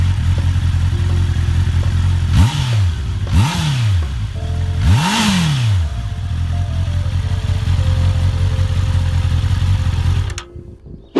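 Honda CB650R 2019 four-cylinder motorcycle with its stock exhaust, idling loudly up close, then three sharp throttle blips that rise and fall, before cutting off abruptly at the end.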